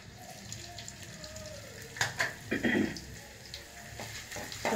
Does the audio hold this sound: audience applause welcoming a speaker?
no